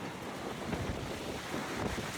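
Strong wind gusting outdoors, a continuous loud rushing roar buffeting the microphone with no pauses.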